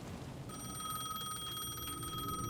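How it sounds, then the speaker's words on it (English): A payphone at the edge of a plaza rings in the video game Alan Wake II, a continuous bright electronic ring that starts abruptly and holds steady at moderate loudness over low background ambience. "The payphone at the edge of the plaza was ringing again."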